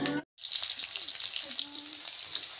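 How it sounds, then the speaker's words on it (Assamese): Onions fry in hot oil, a steady close sizzle with faint stirring after a brief break, while a voice speaks softly over it. "এই পিঁয়াজে তেলে চেলে ভাজি আছে"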